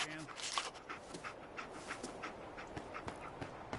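A dog companion pants in Fallout 4, with short repeated breaths at moderate level over a busy game soundscape.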